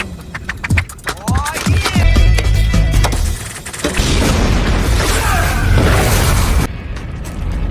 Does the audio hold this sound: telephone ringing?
no